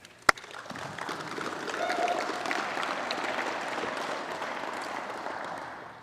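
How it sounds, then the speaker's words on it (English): An audience at a kayak bass fishing tournament gives the anglers a round of applause, with a sharp knock at the start and then sustained clapping swelling and holding at moderate volume. "We'll give these anglers another round of applause"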